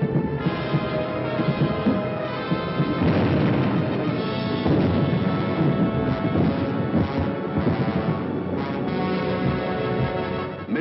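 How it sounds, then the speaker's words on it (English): Firebombs exploding over London during an air raid, dense, continuous rumbling blasts and crashes layered into one loud, unbroken roar. "Millions of firebombs rained down on the great city of London."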